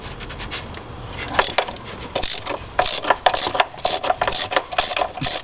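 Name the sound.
spark plug socket removing a spark plug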